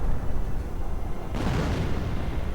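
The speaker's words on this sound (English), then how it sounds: "now we are seeing artillery being coordinated with this retreat" Artillery shells detonating in a Company of Heroes World War II battle, a low rumbling barrage followed by a sudden heavier blast that sends debris-like crackle across the mix, loud and close.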